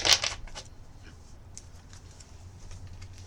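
A quick burst of cards riffling together at the start, followed by a few lighter flicks and taps over a low background hum.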